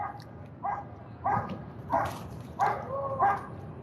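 Several police dogs bark in short, repeated bursts at a moderate distance, spaced roughly half a second apart over a low background rumble, during a major downtown Vancouver police standoff.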